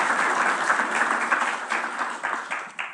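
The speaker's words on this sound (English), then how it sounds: "So I would love to give them all four another round of applause for all their support." Steady applause from an audience at a mayoral roundtable, a few seconds of close, dense clapping that begins fading near the end.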